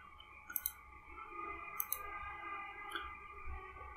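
Keys clicking on a computer keyboard while typing Bangla text, a few sparse, light clicks in small clusters over a steady electrical hum.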